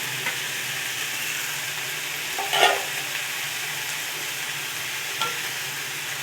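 Fried rohu fish pieces go into a boiling Bengali fish curry: a steady, even bubbling hiss with a couple of soft clinks and bumps partway through, no voices.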